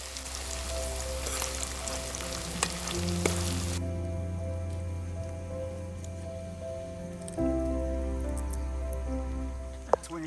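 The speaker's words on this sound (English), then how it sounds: "but it's boiling, it's frying, time to add the mofongo" Mofongo frying in boiling oil outdoors at a rainforest property, a steady dense crackling sizzle with bright popping spatters, close and continuous, with a low hum and background tone shifts underneath.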